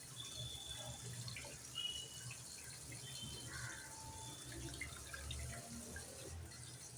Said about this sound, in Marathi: एक दोनदा पाण्यातून काढली की भाजी स्वच्छ मिळते आपल्याला.